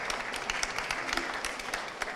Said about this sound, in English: Please give them a warm welcome applause.